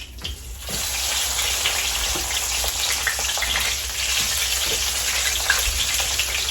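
Chicken pieces frying in hot oil, left unbattered without flour or egg, giving a steady dense crackling hiss with scattered pops, close and continuous throughout.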